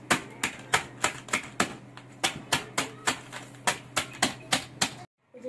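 A sealed bag of cheese Cheetos is pounded by hand in a kitchen to crush the snacks for a pasta topping. About seventeen sharp, evenly spaced thumps land one after another, close and clear, with no talking.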